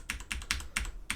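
Arrow keys and the enter key clicked on a computer keyboard, five crisp separate keypresses at a steady pace, close and fairly quiet with no voices.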